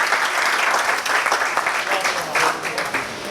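An audience at a Hindi poetry recital bursts into loud, dense applause, many hands clapping together in a rolling wave that swells and dips slightly, with a voice faintly mixed in.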